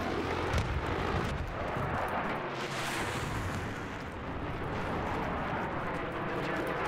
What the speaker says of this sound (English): what an RPG shot